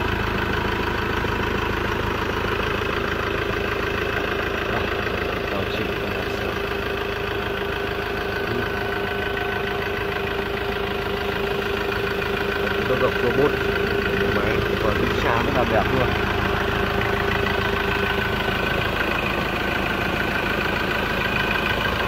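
A Ford Ranger XLT pickup with a 2.2-litre turbo diesel engine idles steadily and smoothly, a constant mid-range hum running throughout with a faint knocking texture. A voice talks over it.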